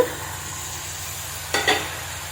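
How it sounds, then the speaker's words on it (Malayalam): A spiced gravy for a date pickle being stirred and mixed in a pan, with a steady low sizzle and a couple of brief scraping stirs near the end. "അപ്പോൾ പച്ചമണം മാറുന്നത് വരെ നല്ലപോലെ ഇളക്കി യോജിപ്പിക്കുക"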